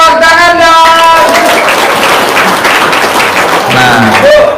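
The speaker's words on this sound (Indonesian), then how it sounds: "Tepuk tangan dong." An audience bursts into loud, close applause that stays dense throughout, with voices and cheering mixed in over the clapping.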